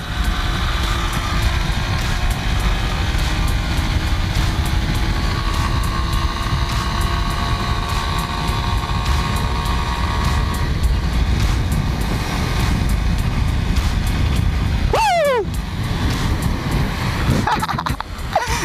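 Euro Keeway Cafe Racer 152 motorcycle riding along, its engine droning steadily under wind rush for most of the run, with a brief shift in pitch near the end, and no talk.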